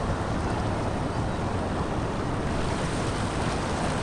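Water splashes and roars continuously at Jamvada waterfall near a village, a dense, steady rush close to the microphone with no pauses.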